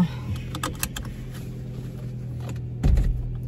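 Car cabin interior while driving, with a steady low engine and road hum throughout, a few small clicks and rattles early on, and a brief louder bump near the end.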